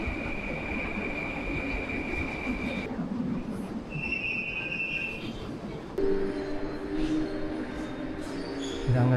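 Steady rumbling ambience of a busy metro station in Baku, Azerbaijan, with a train's hum and rail noise, a high whine, and faint voices in the background.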